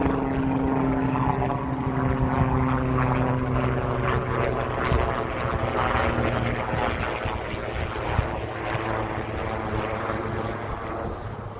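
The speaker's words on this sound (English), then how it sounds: "This helicopter is like really" A helicopter circles overhead during a spring walk along the Tamagawa in Tokyo, its steady rotor and engine drone loud and continuous for the whole stretch, with faint street ambience beneath and no talk.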